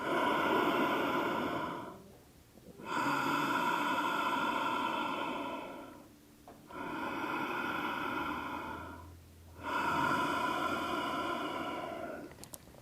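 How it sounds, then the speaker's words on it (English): Ujjayi ocean-like breath during a yoga practice: slow, steady hissing breaths drawn in and out through a narrowed throat, about four long breaths with short pauses between, close and alone. "We call it ujjayi breathing or ocean-like breath."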